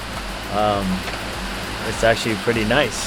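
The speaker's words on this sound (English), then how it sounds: "watching the rain, listening to the sound of rain just pounding" Heavy rain pounding down during a downpour in Langkawi, a steady broadband hiss of rain running throughout beneath a person speaking casually.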